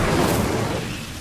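A fiery burst from the Incendio spell in Hogwarts Legacy, a loud whooshing blast of flame that fades over about a second.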